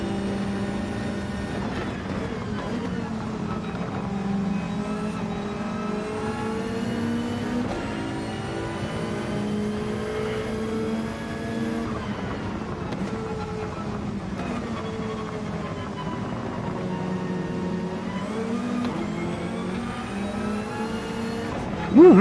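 A GT3 race car engine held at full throttle around Bathurst in Gran Turismo 7, a steady loud drone with shifting pitch as the revs rise and fall, close and continuous throughout.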